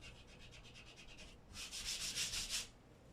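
Pencil marks are rubbed off unfinished drywall with an eraser in two bursts of quick back-and-forth scrubbing, a lighter run first and then a louder, harsher one, close by with no talk.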